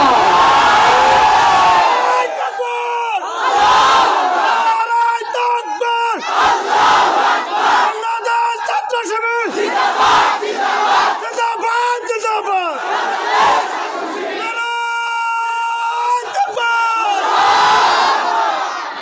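A large crowd at an outdoor Islamic gathering in Pabna chants takbir in loud, repeated unison calls, waves of voices rising and falling with brief pauses between shouts.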